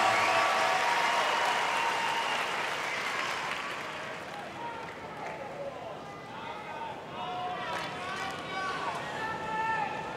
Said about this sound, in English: Listen to this crowd, and this is an, they're helping Stevens now.